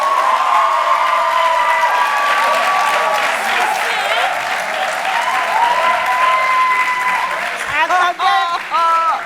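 Studio audience applause on a French TV game show, a dense, steady wash of clapping that runs throughout, with cheers and whoops mixed in and voices surfacing near the end.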